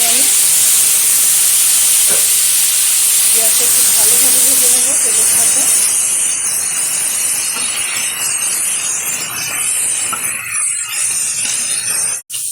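Crushed onion, salt-pounded on a grinding stone, sizzles in hot oil with a steady loud hiss that fades somewhat toward the end; a voice speaks briefly in the middle.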